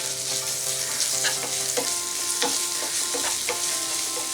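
Crushed ginger and garlic sizzling in a pan with onion and green chili, a steady loud frying hiss with occasional stirring clinks and scrapes, no voices, for a potato or peas rice dish.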